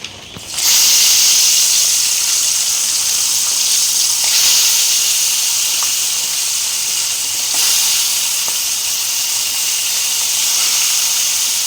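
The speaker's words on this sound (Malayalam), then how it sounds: "അതാ നമ്മുടെ കല്ലുമ്മക്കായ പൊരിഞ്ഞുകൊണ്ടിരിക്കുകയാണ്." Large stuffed mussels (kallummakkaya) fry in a pan with a loud, continuous sizzle and hiss that holds steady throughout, with occasional faint pops and no voices.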